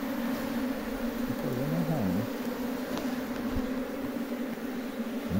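A swarm of honeybees buzzes steadily and close during a hive inspection, with a low wavering drone that rises and dips as bees fly around, over a constant background hum.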